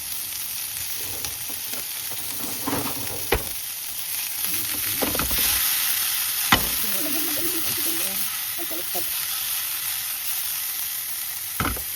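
Mushrooms fry in a pan for a cream and mushroom sauce for Greek meatballs, a continuous close sizzle with occasional stirring knocks and scrapes; no speech over it.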